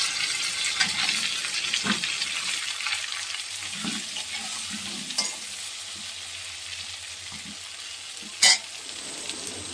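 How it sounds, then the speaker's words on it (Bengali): Pointed gourd pieces frying in oil, a steady soft sizzle with occasional stirring scrapes and one sharp clatter near the end, no voices. "আমি এবারে পটলটা ভেজে নেব।"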